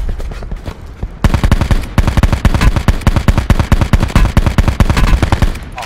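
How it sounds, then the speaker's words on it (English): Loud, rapid automatic gunfire in the Black Ops 4 Blackout battle royale game, long close bursts of evenly spaced shots that run almost without pause after a brief quieter opening. "I just shot you in the back of the head."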